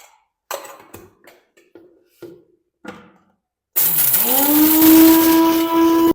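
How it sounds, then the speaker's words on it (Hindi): Several soft knocks and clatters of roasted spices dropping into a mixer grinder jar, then a loud mixer motor whirs up and grinds them coarsely and steadily to the end. "इसको शामिल करेंगे एक मिक्सी जार में और दरदरा सा हम इनको पीस लेंगे"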